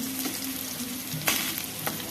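Potatoes and onions sizzle steadily in a home kitchen pan for an aloo bhaji, a continuous close frying hiss with a few brief stirring scrapes and no talk.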